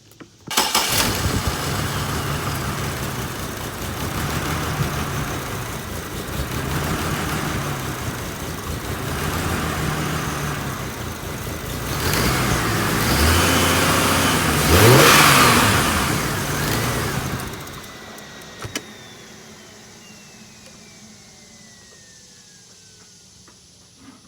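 A GM 4.2 V6 engine, freshly fitted with new spark plugs, cranks and fires, then idles roughly with repeated rises in revs before cutting off and leaving a quiet tail, loud and close with no talking.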